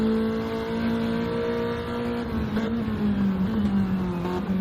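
BMW touring car at a legends support race, its engine revving hard in first gear then climbing up through the gears, a loud continuous drone with rising and falling pitch and a brief lift near the end.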